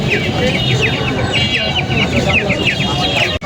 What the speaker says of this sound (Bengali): একটা ফাউমি একদম একটা দেশি মুরগি সোনালি মুরগি